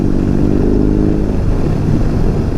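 A BMW R 18 B bagger motorcycle rolls through city streets, its big boxer engine rumbling steadily and loud throughout with a continuous low drone and no voices.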